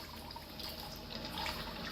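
Water runs steadily into a horizontal double distillation unit, a continuous close hiss and gurgle of flowing liquid at even loudness throughout, with no speech.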